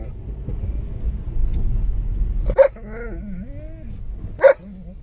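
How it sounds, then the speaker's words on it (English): A dog gives two sharp barks with whiny yelping tones in between, heard over a low rumble of passing traffic earlier on. "Too much barking."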